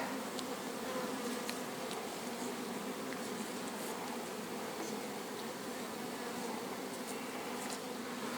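Bees buzz around beehives in a summer apiary gathering linden honey, a steady dense hum near and far with occasional louder passes close by.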